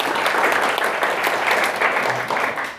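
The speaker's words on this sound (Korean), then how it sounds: "박수로 모시겠습니다" An audience at a coding bootcamp presentation applauds to welcome a speaker on stage, with dense, loud, steady clapping that fades slightly at the end.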